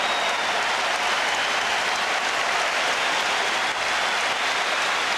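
Standing-room Boston Celtics crowd of over 15,000 cheering at a 1988 Celtics versus Hawks basketball game, a dense, loud, continuous roar of applause and shouting with no voice rising above it.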